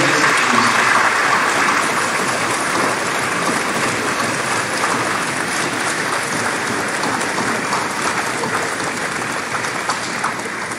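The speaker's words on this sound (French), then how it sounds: "j'aimerais qu'on les applaudisse" Sustained applause from a large audience at a 2019 university graduation ceremony, a dense, even roar of clapping that continues for about ten seconds without talk.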